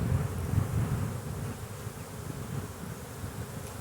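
Honeybees in a packed, crowded hive whose comb is mostly drawn out and full of pollen and nectar give off a steady, dense buzz that holds even and close throughout, with no voices.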